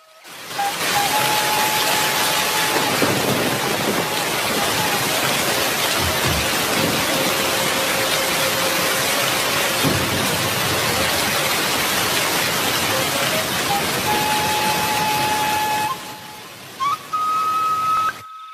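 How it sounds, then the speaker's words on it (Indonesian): Heavy rain pours down with wind lashing the leaves, a dense, loud, continuous hiss with occasional low thunder rumbles beneath it, fading out abruptly near the end. "breg bae hujan badag naker dibarung ku angin ngaglebug anu nebak dangdaunan selang-selang burinyai kilat dituturkeun ku gelegerna sora guludug"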